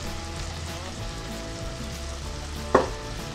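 Minced meat sizzles steadily in a pan as grated tomato is added, a constant frying hiss with one sharp louder splash near the end; no voices.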